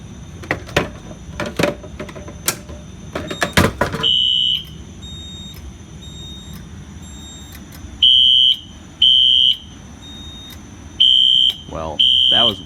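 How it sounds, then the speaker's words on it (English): A fire alarm sounds during a test of a 4008 fire alarm system in a basement, giving loud, close, steady electronic tones in repeated bursts of about a second after some handling clatter. "Let's pull the alarm."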